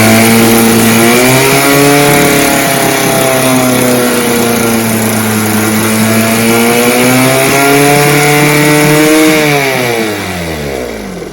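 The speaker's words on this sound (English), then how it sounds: "Choke it, start it, and do the adjustment." A 5.5 Evinrude outboard motor runs loud and close after a choked start while its carburetor is being fine-tuned. The engine holds a steady buzzing drone, its pitch shifting slightly, then drops in speed near the end.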